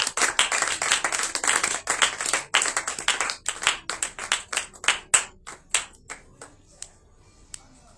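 Audience applause at a Passover (Pessah) church celebration evening: dense clapping from a crowd that builds, then thins into scattered individual claps before fading out.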